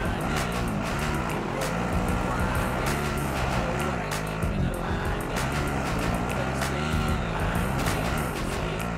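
An enemy vehicle rumbles along in Call of Duty, a steady low engine drone with road noise running continuously beneath game sounds.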